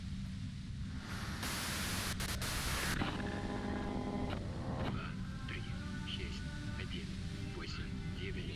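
Loud, steady hiss of white noise in Disco Elysium, a harsh static wash filling the space, with faint tonal voices or murmurs emerging through it near the end.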